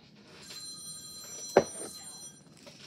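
A mobile phone rings with an incoming call nearby while a new MacBook is being unboxed, a faint electronic ringtone with a brief louder burst midway over quiet room noise.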